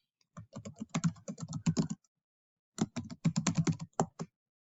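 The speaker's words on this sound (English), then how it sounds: "I'm going to hit enter on my keyboard twice." Computer keyboard typing in two dense bursts of rapid keystrokes, about a second and a half each, separated by a short pause, close and clear with no talk.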